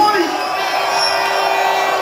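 Crowd at an Iration Steppas sound system dance at Leeds West Indian Centre, a dense roar of cheering and whooping under ringing bass-heavy sound system tones, steady and loud throughout.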